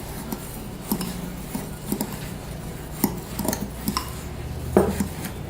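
Crushed graham crackers, sugar and butter are mixed in a bowl, a spoon scraping and knocking against the bowl in a steady, roughly once-a-second rhythm, close and clear, with no talk.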